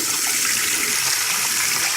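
Water pouring steadily from a tap into a container up to its fill line, a continuous close hissing gush with no talk.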